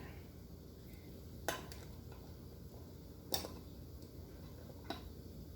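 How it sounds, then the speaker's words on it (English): Canning jars of garden tomatoes get lids and bands put on, heard as faint, sparse metallic clicks and taps spaced a second or two apart over a quiet kitchen background. "Put the lid on and put the little band around it and put it tight."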